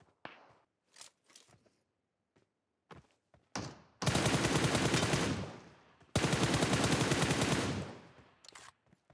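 Rapid gunfire from the video game PUBG Mobile: a few scattered single shots, then two long, loud sustained automatic bursts back to back, with no talking.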